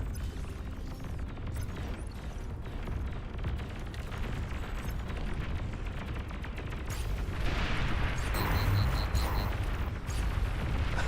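A big D gun fires in a strategy video game, a continuous rumble of heavy artillery-like blasts that swells louder and denser in the latter half.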